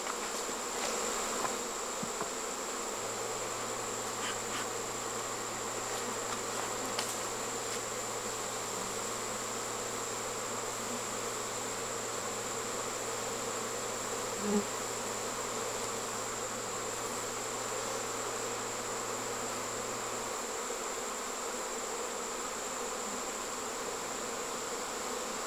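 A honeybee swarm fans at a swarm trap during a fall swarm, giving a steady low insect hum with faint buzzing that holds evenly throughout at a moderate distance, with no talk.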